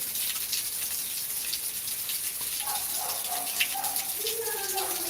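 Heavy rain falling in Beed, a steady broad hiss of downpour with faint tonal calls rising over it near the end.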